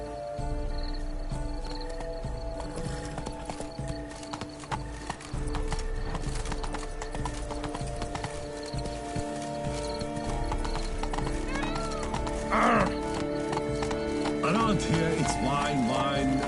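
Hooves of a horse clip-clop steadily in The Witcher 3, a dense rhythmic trot running the whole stretch beneath game music and ambience, with a brief whinny-like sound near the end.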